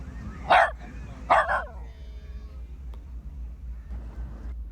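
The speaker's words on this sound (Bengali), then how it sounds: "দুইটা ডগ।" Two dogs bark at a waterside state park on a harbor: two loud, sharp barks about a second apart, followed by quieter outdoor ambience with faint yips.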